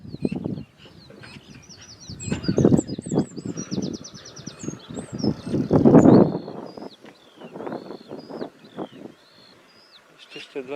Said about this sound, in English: somewhere way up there I think I hear a skylark.